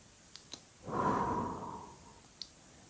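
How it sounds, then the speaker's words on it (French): A long, slow exhale during a guided breathing exercise, a soft breathy rush that swells and fades over about a second and a half, alone in a quiet room with faint small clicks before and after. "Je souffle, je vide mes poumons."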